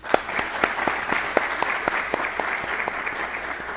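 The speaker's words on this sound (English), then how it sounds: "Please join me in giving the award recipients a round of applause." An audience applauds award recipients at a law enforcement training graduation, with steady sustained clapping from a crowd in a hall and a few louder individual claps standing out.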